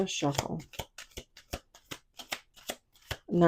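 Tarot cards are shuffled in a series of quick, crisp riffling bursts and taps, close up, with a voice speaking briefly at the start and end.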